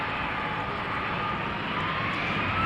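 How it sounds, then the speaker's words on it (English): A 24-year-old KLM Boeing 737-800 bound for Stockholm rumbles at Amsterdam Schiphol Airport, a steady, loud engine roar with broad low drone and a faint rising tone, continuous throughout. "This is KLM flight 1219 going to Stockholm, 737-800."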